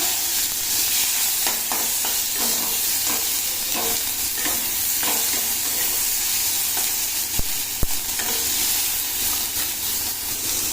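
Tomatoes hit a pan of a little hot oil tempered with black cumin seeds, giving a steady loud sizzle and hiss, broken by occasional scraping stirs and a couple of sharp clicks.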